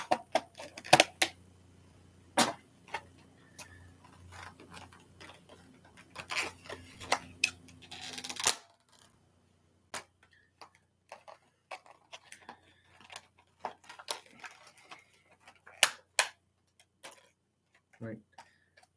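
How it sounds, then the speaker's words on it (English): Diecast car packaging, likely for an Aston Martin Valkyrie, is cut open with scattered crisp snips and clicks of plastic and cardboard, close and fairly quiet, with a low hum early on. "I have to cut this open a little bit more."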